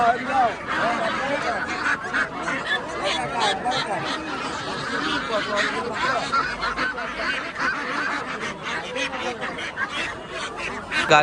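Runner ducks at a village livestock market make a constant flock racket of honks and quacks, loud and dense, while people talk nearby.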